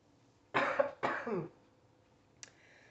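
Two distinct coughs in quick succession, fairly close and clear, followed by a quieter short throat sound in a quiet room.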